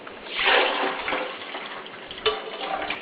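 Mung beans being washed in water, a continuous close splashing and sloshing rush with a brief louder swirl near the end.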